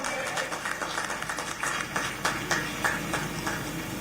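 A rally crowd gives Home Minister Amit Shah sustained clapping, a steady patter of many hands heard at moderate distance over a humming PA system.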